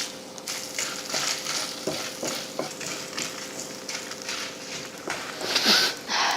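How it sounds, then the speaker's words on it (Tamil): Masala spices fry in a spoonful of oil in a kadai, a soft steady sizzle with occasional scraping and stirring clinks of a spoon against the pan, close and moderately quiet. "எண்ணெயை ஊற்றிட்டு அது கூட மசாலாவை போட்டு வறுத்தரலாம்."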